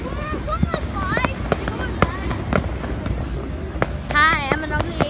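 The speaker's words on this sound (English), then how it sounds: "More fireworks!" Fireworks crack and pop in a rapid, irregular string of sharp bursts, with whistling rockets rising through the volley as excited voices chatter and shout nearby.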